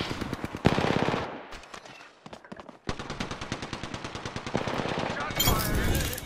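Rapid automatic gunfire in a shooter video game rattles out in dense bursts, breaks off briefly, then fires again in a long fast volley that ends in a louder burst. A voice speaks faintly underneath.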